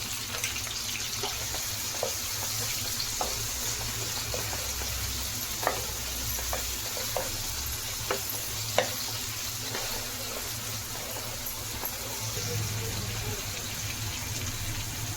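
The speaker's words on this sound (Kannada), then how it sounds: "ಇವಾಗ ಸ್ವಲ್ಪ ಶುಂಠಿ ಬೆಳ್ಳುಳ್ಳಿ ಪೇಸ್ಟ್ ಹಾಕ್ತೀನಿ" Ginger garlic paste frying and being stirred in a pan while mutton chukka is cooked, giving a steady soft sizzle with scattered spoon clicks and scrapes throughout, fairly quiet and close, with no voice over it.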